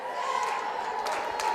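Crowd at the Broken Bow Savages high school basketball game, a steady roar of cheering and shouting from the stands with no single voice standing out.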